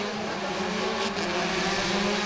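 An R5 rally car engine revs at a race start in a Master Show event, a loud, steady, droning engine note that holds and builds slightly, close and continuous with no talking.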